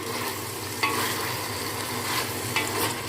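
Chicken with yogurt, ginger and garlic paste sizzles in a hot pan with a continuous, close-up crackle. Two louder stirring bursts break through the frying.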